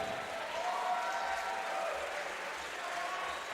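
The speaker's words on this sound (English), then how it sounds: "How about a round of applause for these two big men?" Crowd applause for two heavyweight boxers at a pro boxing event, a steady wash of clapping and cheering that holds at even loudness throughout with a faint tonal murmur underneath.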